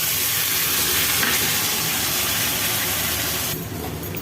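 Spice paste of onion, garlic, ginger, tomato sauce, cumin, turmeric and chili powder dropped into hot oil, giving a loud, steady sizzle and hiss that stays unbroken and eases off slightly at the end.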